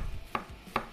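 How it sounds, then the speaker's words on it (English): A knife cuts thin slices of food for nachos on a cutting board, with two crisp, evenly spaced taps close up and no talking. "just make some thin slices"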